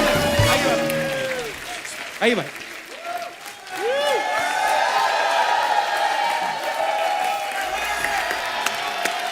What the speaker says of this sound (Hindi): एक बार जोरदार तालियां हमारे मेहमानों के लिए।